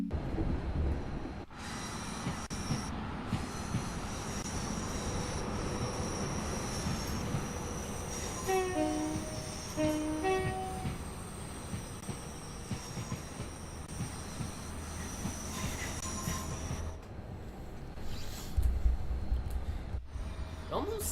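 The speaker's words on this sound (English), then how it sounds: "It almost sounds like it's a diesel train for some reason, even though it's obviously not." Train running in the Train Sim World 5 video game, with a steady rumbling drive sound and a few brief squealing wheel tones near the middle; the sound resembles a diesel engine and continues throughout without pause.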